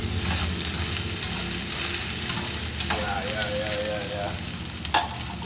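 Mince fries in a pan with a close, continuous sizzle and crackle, with stirring scrapes and a sharp clink near the end as someone briefly says a word.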